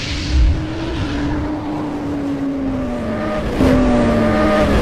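A Bajaj Pulsar NS125 motorcycle engine idles steadily with a faint abnormal whine riding over the hum, heard close up, with a slight shift in pitch near the end.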